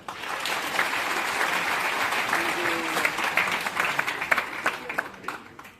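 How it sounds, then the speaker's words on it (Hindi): A seated crowd at a presentation claps for itself, the applause building from a soft start into a full, steady patter of many hands, with a few sharper individual claps near the end. "अगर देख रहे हैं तो आप अपने लिए ताली बजाएं।"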